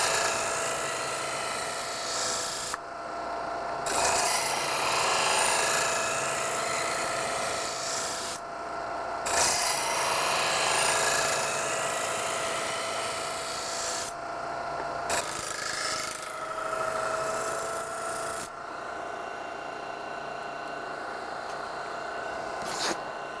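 Smith knife sharpener working a knife blade, a continuous close rasping grind broken by brief pauses between strokes, fairly faint and steady over a noisy trade-show background.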